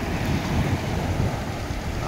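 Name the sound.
sea water washing in, waves on shore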